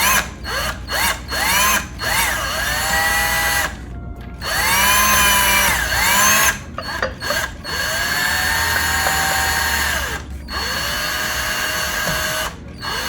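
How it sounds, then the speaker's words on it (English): A Phillips-head power drill driving a screw into a glass garden flower whirs in repeated bursts, its pitch spinning up and winding down, with short pauses between runs. "I'm going to take my Phillips head drill and I'm going to drill this screw"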